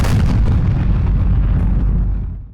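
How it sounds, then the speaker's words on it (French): A deafening bomb blast strikes a building during a wartime air raid, a loud, heavy rumbling roar that fills the whole stretch before fading away at the end. "une explosion assourdissante vient de frapper le bâtiment"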